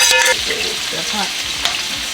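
Cheese sauce being stirred into macaroni noodles in a hot pot, with a brief soft sizzle and wet scraping, stirring movements throughout the short stretch, close and moderately loud.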